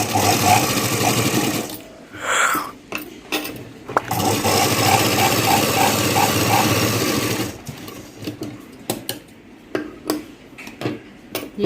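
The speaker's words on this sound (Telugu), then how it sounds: "ఇలా జాయింటింగ్ చేసుకున్న తర్వాత మళ్ళీ పైనుంచి ఒక స్టిచ్ వేసుకోండి" A sewing machine runs top stitching along a joined blouse seam, with a steady mechanical whir in long continuous runs, a brief pause, then shorter start-stop bursts near the end.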